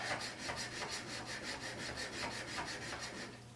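A Stanley #45 plane blade being flattened by hand, with steady back-and-forth abrasive rubbing strokes in an even rhythm, close and fairly loud with no voices.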